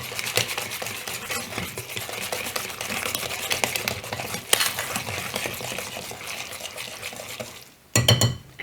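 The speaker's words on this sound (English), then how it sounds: "And mix this till it's really combined." Gluten-free pumpkin streusel muffin batter is mixed in a bowl with rapid, rhythmic wet stirring strokes that run steadily and close, pausing briefly before a final few louder clinks against the bowl, with no talk.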